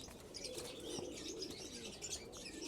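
Tumbler pigeons cooing in a loft, soft repeated low coos with scattered chirps and a light flutter of wings, steady and fairly close.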